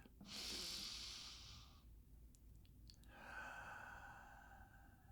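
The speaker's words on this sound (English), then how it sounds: "Take a deep breath." A person takes a slow, deep breath in a quiet room, with a long airy inhale, a pause, then a softer, breathy exhale, close to the microphone.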